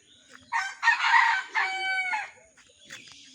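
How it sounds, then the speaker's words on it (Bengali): A rooster in a backyard among chickens and a lemon tree crows once, a clear multi-part call at close range followed by faint clucking. "এই যে আমাদের একটা মোরগ"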